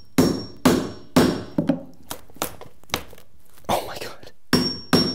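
Hammer driving a nail into a wooden joist during pocket door wall framing, a string of sharp, loud close strikes, some heavy and some lighter taps, in irregular bursts, with a brief spoken exclamation between blows.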